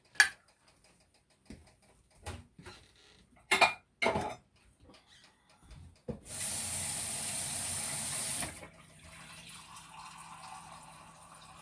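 Water pours steadily from a tap into a pot of beef stew for about two seconds, a broad hissing stream after scattered kitchen clatter and knocks, then quieter running sounds.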